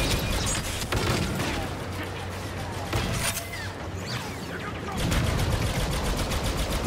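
Rapid blaster gunfire from officer troops in Star Wars Battlefront II, a steady stream of fast shots and crackling bursts running throughout, with someone commenting over the action.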